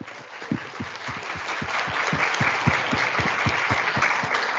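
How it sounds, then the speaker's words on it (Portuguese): A seated audience gives warm applause after a presentation, a continuous wash of many hands clapping at moderate loudness that swells slightly and holds steady throughout. "Palmas para eles, que eles merecem."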